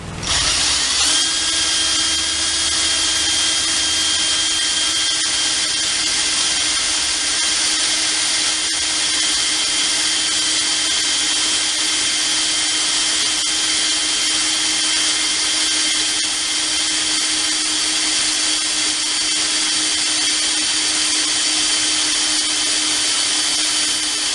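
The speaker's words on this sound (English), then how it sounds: "all I have to do is just drill 2 more holes" A power drill bores holes through hard metal for a pallet ripper prototype, a loud, continuous high whine held steady for over twenty seconds, close up and with no talking.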